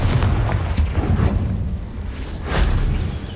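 A Confringo blasting spell in Hogwarts Legacy goes off in a deep, rumbling explosion, with a second loud boom swelling near the end.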